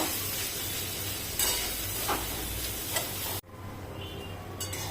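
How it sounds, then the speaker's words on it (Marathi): Onions roasting in a pan for a spicy misal pav, a steady close sizzle with faint stirring ticks that drops out abruptly near the end and resumes quieter. "कांदा छान भाजून घ्यायचा आपल्याला"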